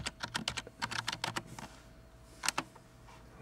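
Quick bursts of key presses on a computer keyboard, clustered taps in a fast irregular rhythm, then a pause and a final short flurry, recorded close and fairly quiet.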